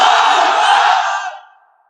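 A large crowd at an Islamic sermon gathering shouts the takbir in unison as one loud, full roar that holds for about a second and then fades quickly into silence.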